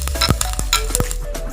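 Whole five-spice seeds hit hot mustard oil in a pan, giving a close, loud sizzle with several sharp metallic clinks and stirring scrapes scattered through it, no voices.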